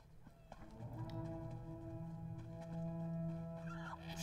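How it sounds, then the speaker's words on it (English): Goats bleat in the video game Elder Scrolls Online, one long drawn-out nasal bleat held for several seconds over a faint ambient game background, fairly quiet. "Oh, don't leave the goats behind."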